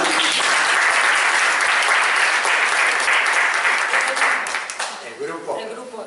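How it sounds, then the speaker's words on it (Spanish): Audience applauding after a nutrition course lecture at a university, a dense, loud wash of many hands that stays steady, then thins and fades toward the end. "Bueno, le aplaudimos"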